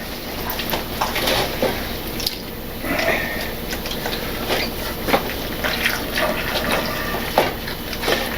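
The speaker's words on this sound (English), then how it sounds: "Let the water drip. It's not a big deal." Water drips and trickles from a pot of boiled ziti pasta, a run of scattered splashy drops and light pattering at close range, with no talking.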